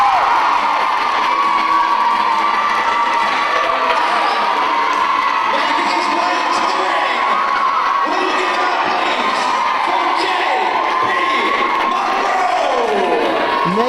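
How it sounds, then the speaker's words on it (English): A live crowd at a wrestling show in a leisure centre in Swanley, Kent, cheering, whooping and shouting steadily throughout, loud and dense with children's voices mixed in. "the crowd are cheering him on here live in Swanley, Kent at the White Oak Leisure Centre"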